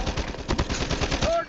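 Rapid automatic gunfire in Call of Duty Mobile, a loud, dense burst of shots firing in quick rhythm for the whole moment.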